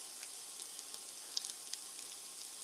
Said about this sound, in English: You love the sizzle?